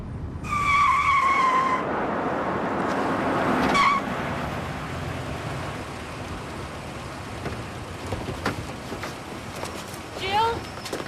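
In a TV drama, a car skids with a sharp tire squeal near the start, followed by a broad, hissing wash of road noise with a few later squeals and knocks.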